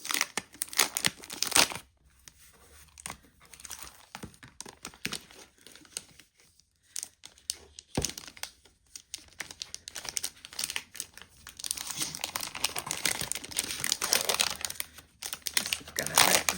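Plastic wrap is torn and crinkled off a 2026 Rosey Life planner, loud bursts of crackling and ripping with quieter gaps between handling, then a sustained crumpling stretch toward the end, no voices.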